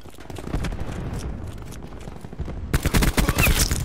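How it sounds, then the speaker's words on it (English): A cluster grenade detonates in Black Ops 4, a string of rapid overlapping blasts that bursts in loudly after a stretch of lighter gunfire and battle noise. "Throwing cluster grenade."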